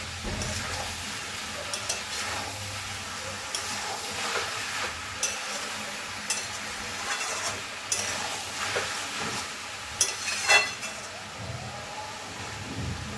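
Young jackfruit with prawns cooks in a covered pan while being stirred, a faint, soft sizzle beneath intermittent scrapes and knocks of a spoon and lid.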